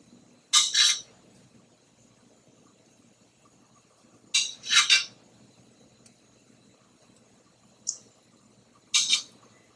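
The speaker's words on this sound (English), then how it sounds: "If you're just skimming the foam off the top, you obviously want to leave all your jam in the pot." A spoon clinks against a pot while skimming foam off cooking peach jam: four short, bright taps spaced several seconds apart, with quiet stretches between and no talking.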